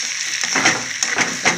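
Ivy gourd (dondakaya) curry with chili powder fries in a pan, a short close sizzle with a few stirring scrapes and soft knocks.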